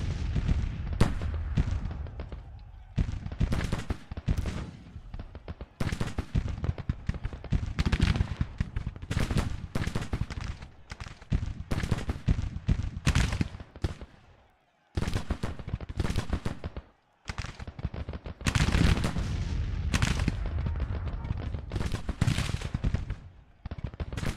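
Massed rifle volleys and artillery fire from Civil War brigades and batteries in Grand Tactician: The Civil War, a dense, continuous crackle of gunfire with booming shots, loud throughout with brief gaps.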